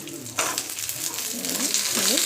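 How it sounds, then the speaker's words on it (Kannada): Tomatoes sizzling and frying in hot oil in a pan while cooking avarekalu sambar, a steady close crackle with a brief stir partway through. "ಟೊಮೊಟೊ ಸಾಫ್ಟ್ ಆಗೋಂಥ ಚೆನ್ನಾಗಿ ಒಂದು ಐದು ನಿಮಿಷ ಥರ ಫ್ರೈ ಮಾಡ್ಕೊಳ್ಳೋಣ"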